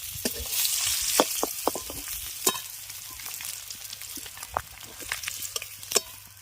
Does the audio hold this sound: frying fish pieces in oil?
yes